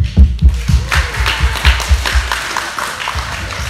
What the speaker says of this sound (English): Clap it up for Alvin.